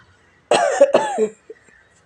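A woman suffering from a cold and fever coughs sharply twice in quick succession, loud and close, followed by a brief faint throat sound in an otherwise quiet room.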